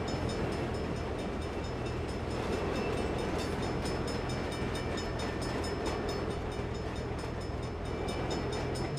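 A train rolls past in the Saints Row video game, a loud, steady rumble of wheels and cars that fills the whole stretch without a break, with no voices over it.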